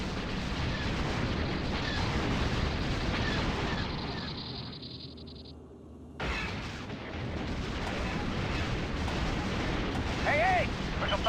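Heavy weapons fire in the Star Wars X-Wing Alliance space-combat game: a dense barrage of booming blasts and bursts, then a short quieter lull with a thin tone, then the barrage resumes at full strength.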